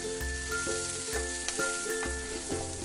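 Clams sizzling hard in a hot wok with ginger and garlic as Shaoxing wine is poured in, a steady loud hiss broken by a few dull scraping knocks, no voices.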